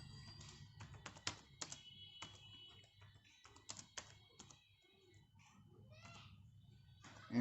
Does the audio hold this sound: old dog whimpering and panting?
no